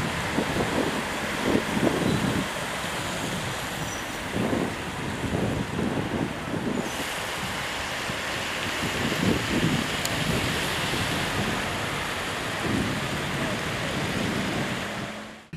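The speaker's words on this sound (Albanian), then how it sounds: "Monti i trazuar i shoqëruar me erë i ditës së sotme ka krijuar probleme në qarkullimin e automjeteve." Strong wind in stormy, rough weather in coastal Durrës roars steadily into the microphone, a loud continuous buffeting with surf-like rushes throughout.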